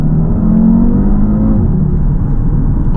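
An Audi TT RS accelerates hard, heard from inside the cabin, its loud engine note swelling and climbing steadily for a few seconds with no talking.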